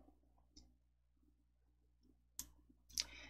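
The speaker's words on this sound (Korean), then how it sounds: "굴림 클릭." Computer mouse clicking while formatting text in PowerPoint, a few sharp, isolated clicks spaced apart in an otherwise very quiet room, the last two louder and close together.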